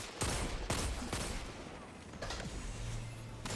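Rapid bursts of scout rifle fire echo through a Destiny Crucible PvP match, several sharp cracks in quick succession followed by a quieter gap and another volley, under game ambience.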